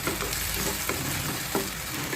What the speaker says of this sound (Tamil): நல்லா இப்போ இதை கலந்து விடலாம்.